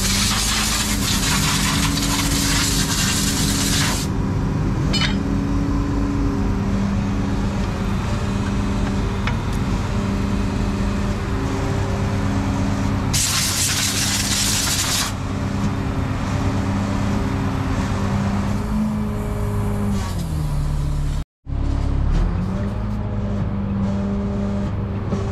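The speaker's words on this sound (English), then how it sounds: "Now we're going to be pulling up with the service truck, and it'll slowly suck it in." A service truck idling and running steadily while it slowly pulls the chain onto a Caterpillar 24M motor grader, a constant heavy mechanical rumble with brief bursts of hissing noise and a short drop near the end.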